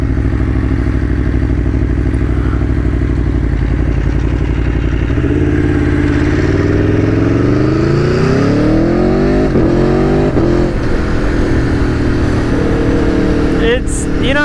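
An Aprilia Tuono V4 1100 motorcycle roars loudly up close, idling steadily and then accelerating hard with a rising engine note through several gear changes, all under heavy wind rush.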